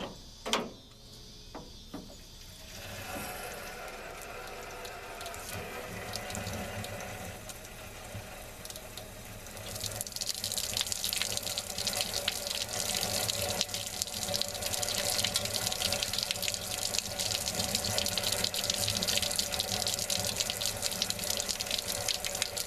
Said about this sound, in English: let's put some water through this thing to see what comes out down there.